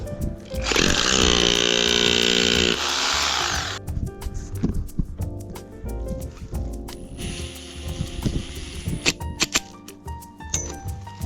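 A drill bores a 3.4 mm pilot hole for 4 mm concrete screws in a greenhouse, giving two loud, close bursts of high whine, followed by clattering, knocking and rattling handling noises.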